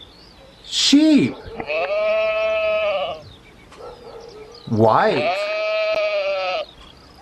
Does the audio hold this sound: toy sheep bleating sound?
yes